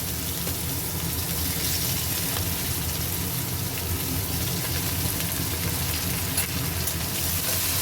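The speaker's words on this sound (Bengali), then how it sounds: "পেঁয়াজগুলো একটু গোল্ডেন ফ্রাই করব, হালকা গোল্ডেন ফ্রাই করব।" Two large chopped onions fry in a pan with asafoetida for Punjabi-style rajma, making a continuous, even, rain-like sizzling hiss at steady volume with no voices.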